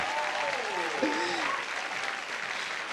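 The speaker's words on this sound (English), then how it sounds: "Crowd goes wild." Spectators at a bouldering competition applaud and cheer loudly and steadily, with commentary running over the crowd noise.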